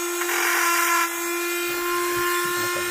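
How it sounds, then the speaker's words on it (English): A power tool whines at a steady high pitch while grinding metal on an AR15 front sight, running close and fairly loud, easing briefly before continuing with faint knocks of handling underneath. "actually I want to grind a spot in here"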